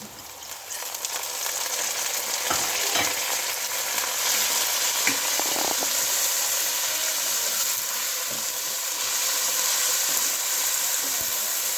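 Onions and tomatoes frying in a pan for a matar pilau, a steady close sizzle and hiss with occasional stirring scrapes, no talking.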